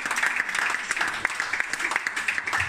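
A church congregation applauds, a steady dense patter of many hands clapping together, fairly close and continuous.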